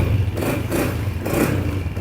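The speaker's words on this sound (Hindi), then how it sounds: "अब इंजन की आवाज़ बग़ैर टैपट किए बिल्कुल स्मूथ है, खामोश इंजन है" A Honda CG 125 motorcycle engine idles steadily after a rocker pin replacement, with a low, even rumble and a light mechanical clatter, no revving.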